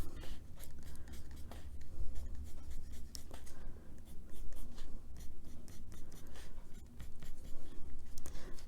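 Close, continuous scratchy strokes of colored pencil shading on a coloring page, back-and-forth in an uneven rhythm, soft and textured with no talking.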